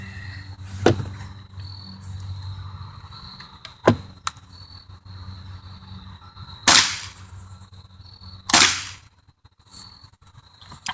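An airsoft gun firing 0.20 gram BBs at targets, heard as sharp, close cracks with a couple of distinct shot-and-impact pairs spaced seconds apart over faint outdoor background hiss.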